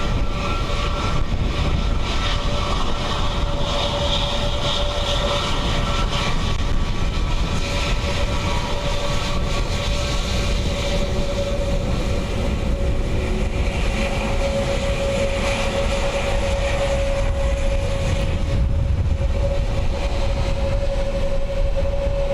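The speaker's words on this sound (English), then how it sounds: "A321 Neo from Manchester" An Airbus A321neo airliner arriving from Manchester lands on runway 28L at Dublin Airport in windy conditions, giving a loud, steady jet roar with a sustained engine whine that holds throughout.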